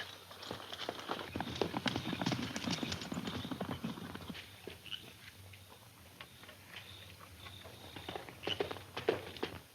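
Hoofbeats of a horse at a gallop, a quick clattering rhythm that is loud at first and then fades a little, with brief voices mixed in.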